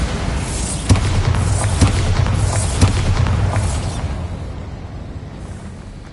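Repeated Bombarda blasting spells in Hogwarts Legacy, three sharp booms about a second apart over a dense rumbling roar that thins out and fades toward the end.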